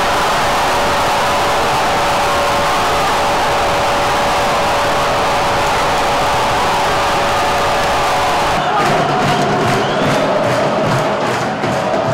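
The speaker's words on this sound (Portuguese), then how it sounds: "A torcida vai ao delírio com a virada heróica do tricolor da capital." A stadium crowd roars loudly and continuously at Pituaçu as Bahia completes a late 3-2 comeback win, a dense wall of cheering that briefly breaks into rhythmic chanting toward the end.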